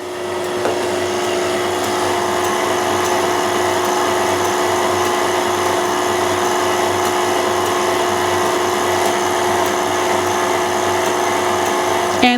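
An electric stand mixer on its second speed whips pastel macaron batter with a continuous, even motor whir that stays loud and unbroken throughout.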